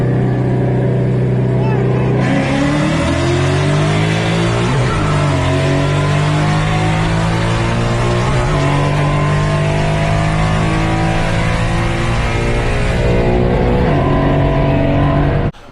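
Cars street racing roar loudly and close, their engines droning as the pitch climbs and drops through hard acceleration and gear changes, continuous throughout.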